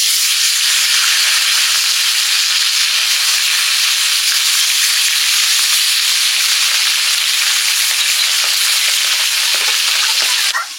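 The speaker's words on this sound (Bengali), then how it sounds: "সরষের তেল দিয়েছি, গরমও হয়ে গেছে, মাছগুলো ভাজবো।" Whole tilapia fish frying in hot mustard oil, a loud, continuous crackling sizzle that holds steady close to the pan for about ten seconds, with occasional sharper pops and spits and no talking.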